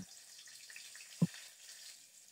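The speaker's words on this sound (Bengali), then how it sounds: "কড়াইতে অল্প করে সরিষার তেল দিলাম, কালো জিরা ফোড়নে দিচ্ছি, সাথে 2টা কাঁচামরিচ ভেঙে দিলাম" Nigella seeds and broken green chillies tempering in a little mustard oil in a wok, a faint, steady sizzle with one brief low thump partway through.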